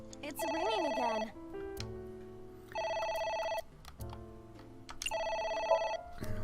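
Telephone ringing in the game AI: The Somnium Files, three electronic ring bursts separated by gaps, with a voice talking over the start and low background music between rings.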